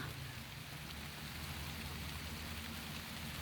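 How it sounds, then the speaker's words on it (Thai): Steady rain pattering down in a continuous hiss with a low rumble underneath, constant and even, no voices. "ฝนกระตกพี่น้องเอ้ย"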